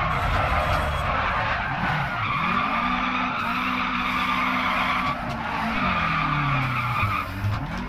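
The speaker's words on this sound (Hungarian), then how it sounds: "Erőteljesen csúszik, srácok, az autó." Tires squeal loudly and steadily as a Lancia Fulvia HF rally car skids in the Dirt Rally video game, its engine note rising and falling beneath the screech throughout.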